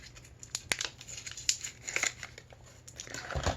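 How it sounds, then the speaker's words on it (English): A foil bag protecting a roll of medium-format film for a Lubitel TLR camera is torn open, giving close, quiet crinkling and a string of sharp ripping bursts alone. "tear open the bag, that foil bag that protects it"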